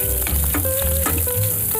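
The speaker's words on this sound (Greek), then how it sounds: "Να ακούσουμε το ωραίο τσιτσίρισμα" Food sizzles steadily in a frying pan as it is stirred on a kitchen stove, a continuous close crackle with a few scraping stir sounds and no talking.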